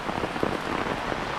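Heavy non-stop rain falls during a flood near the Sesa River in Assam, a close, even hiss of dense patter with no voices.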